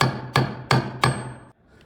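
Three sharp metallic taps from a cap nut tool seat a cap nut onto a garden cart's rear wheel axle, evenly spaced about a third of a second apart, each ringing briefly before fading to quiet.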